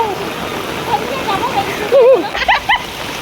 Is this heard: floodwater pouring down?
yes